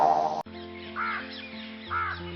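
A crow caws twice in harsh, separate calls over a steady musical backing.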